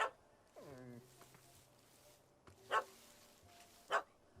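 A dog in The Witcher 3 video game yelps and then gives several sharp, separated barks at moderate distance, alone without talk.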